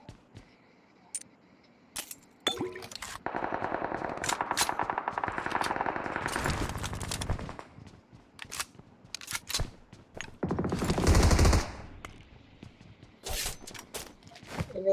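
Video game gunfire crackles in rapid automatic bursts and scattered single shots, with dense sustained stretches of firing, while players talk over it.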